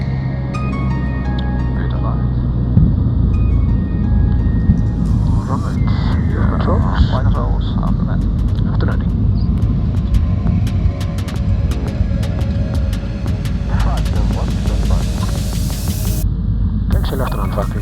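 Air Greenland Dash 8 turboprop taxiing, a steady loud engine drone and rumble with whining tones throughout, with radio calls and people talking over it.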